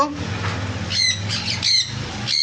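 Caged pet parrots (sun conures, pineapple conures and cockatiels) let out several shrill squawks and chirps nearby, spaced irregularly over a low background hum.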